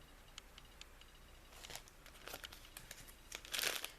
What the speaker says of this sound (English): I will keep a plastic bag with me.